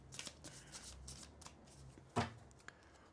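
Tarot cards shuffled by hand at close range in several soft riffling bursts with one sharper snap, set against a quiet room, no talking over them.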